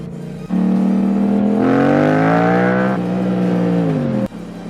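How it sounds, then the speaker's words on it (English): Yamaha MT-07 motorcycle engine fitted with exhaust decibel killers, revving up loud and close with rising then falling pitch over several seconds before cutting off abruptly, no voices. "I gotta take the decibel killers out of my bike again because I am used to this level of sound"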